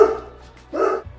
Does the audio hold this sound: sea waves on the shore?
no